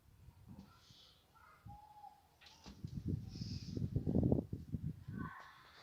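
Pet birds give scattered crow-like caws and calls, some squawks rising louder in a cluster midway, with quieter chirps and background rustle around them.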